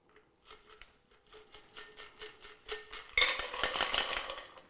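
A shaken Paper Plane cocktail is poured out of a tin through a strainer, with soft metallic clinks and taps giving way to a brighter rush of liquid and ice near the end, close and fairly quiet.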